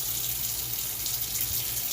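Cold tap water runs steadily over white rice being rinsed, a close, continuous splashing hiss with no speech for about two seconds.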